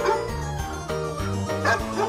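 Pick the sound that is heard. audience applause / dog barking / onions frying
dog barking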